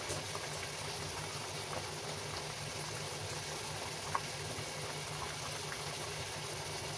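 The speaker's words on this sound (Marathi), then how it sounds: "इथे राईस आपला बॉईल होतोय." Rice for chicken biryani boiling in a pot on a gas stove turned low, giving a steady, soft bubbling hiss throughout with one faint click near the end and no voices.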